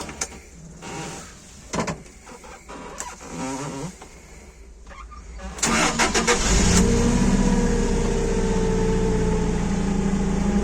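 A Toyota 02-8FGF25 forklift with a factory cab is started: a few quiet clicks and knocks, then a brief crank that catches into a loud, steady idle close by, with no talk.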